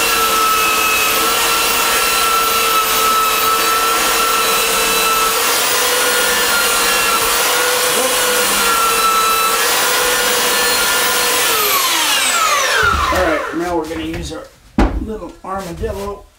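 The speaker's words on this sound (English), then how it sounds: "Armadillo, a little fine fine sandpaper" Steady broadband rasping of fine sandpaper rubbed by hand over wood, continuous for about twelve seconds before breaking into shorter, uneven strokes and handling noises at the end.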